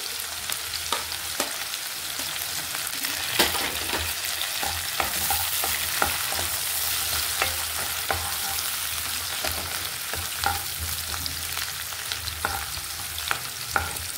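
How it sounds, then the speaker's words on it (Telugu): Onions and curry leaves frying in a pan for an egg potato curry, a loud continuous sizzle dotted with frequent crackles and spatter pops throughout. "ఫ్రై అవుతున్నాయి కదా, కరివేపాకు కూడా వేసేసుకున్నాం"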